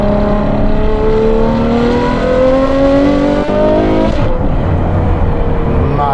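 A Novitec Ferrari 812 N-Largo S with roughly 800 horsepower revs hard, its V12 pitch climbing through rising harmonics, then dropping sharply as it shifts, loud and close throughout.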